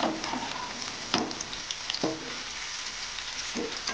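Cauliflower florets shallow frying in oil over a high flame, a steady close sizzle with a few louder crackles and pops, no voices.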